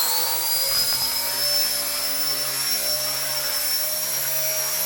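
An RC ERA 1/48 scale Huey model helicopter lifts cargo on a line, its rotor and motor giving a steady, close, high-pitched whine and buzz that holds level throughout.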